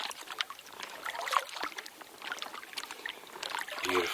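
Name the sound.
paddling a canoe along the edge of a lake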